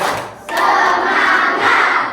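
A primary school class of fifth graders claps along together in a teacher-led clap chant, a dense burst of hand clapping starting after a brief pause and continuing steadily at close range.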